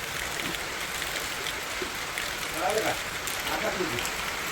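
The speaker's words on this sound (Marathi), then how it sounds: "आत्ता पाऊस चालू झालाय" Steady rain patters across a surface in a continuous hiss at a bullock-cart race ground in rural Maharashtra, with faint voices murmuring in the background.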